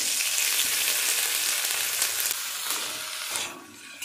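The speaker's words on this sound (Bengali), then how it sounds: "প্রথমে আমি গাজর মটরশুঁটিটাকে তেলের মধ্যে ভেজে নেব।" Carrots and peas fry in oil in a kadai with a loud, dense, hissing sizzle that holds steady, then thins out and quietens over the final half second.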